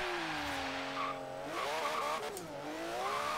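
A 960-horsepower rear-wheel-drive Porsche in Forza Horizon 3 accelerates hard toward top speed, its engine note climbing through the gears with a drop at each shift and a steady, close, loud roar throughout.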